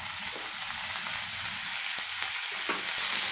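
Capsicum and tomato pieces fry with onions in a hot pan for a capsicum curry, giving a steady, close sizzle with a few faint clicks and stirs and no voices.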